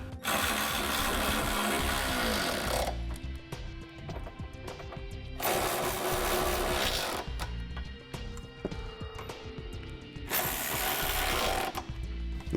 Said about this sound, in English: Now for snugging our bolts down here, we're going to use a 19mm socket.